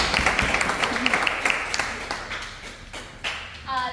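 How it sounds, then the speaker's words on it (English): Applause for the mayor inside a boxing gym: scattered claps, fairly close and moderately loud at first, that thin out and fade, with a brief tonal ring near the end. "So give another round of applause for our mayor."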